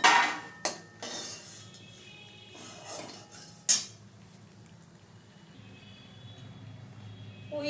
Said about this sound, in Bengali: বড়িটা ভাজা হয়ে গেছে, এবারে একটা পাত্রে তুলে রাখছি।